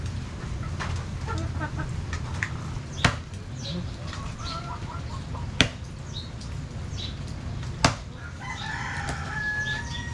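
Chickens cluck and crow softly outdoors in rainy weather, short fowl calls scattered over a constant low rumble, with a few sharp knocks and a voice speaking faintly in the background.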